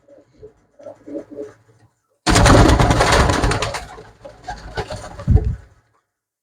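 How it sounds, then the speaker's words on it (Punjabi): Pigeons kept for sale coo softly and intermittently, then a sudden loud, noisy burst of rustling lasts a couple of seconds before quieter coos and shuffling return. "ਪੂਰੇ ਸ਼ਾਨਦਾਰ ਕਬੂਤਰ ਆਏ ਹੋਏ ਬਈ ਅੱਜ ਆਪਣੇ ਕੋਲ"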